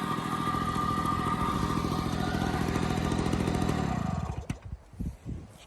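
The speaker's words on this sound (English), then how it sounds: "Basically, wide open throttle, it's still four-stroking slightly." A two-stroke edger engine roars steadily at wide open throttle, slightly four-stroking with an uneven burble, then cuts off abruptly near the end, sputtering into a few dying coughs.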